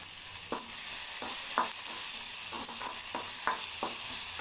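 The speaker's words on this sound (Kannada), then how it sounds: "ಹಸಿ ಖಾರ ಹಾಕ್ಕೊಂಡು ಕರಿಬೇವು ನಂತರ ಸ್ವಲ್ಪ ಟಮಾಟ ಇದೆಲ್ಲ ಚೆನ್ನಾಗಿ ಬಾಡಿಸೋಣ" Green chili, curry leaves and tomato sautéed in oil for chitranna, a constant soft sizzle under a series of distinct spatula scrapes roughly every half second to second, close and even, no speech.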